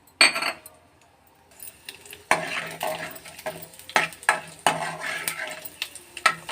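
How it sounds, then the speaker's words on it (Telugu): Tempering spices dropped into hot oil in a pan (kadai), bursting into sharp crackling sizzles with several loud spatters and metal stirring clatters, some quiet gaps between bursts. "Oil heat ఎక్కిందండి. పోపు దినుసులు వేసుకున్నాము."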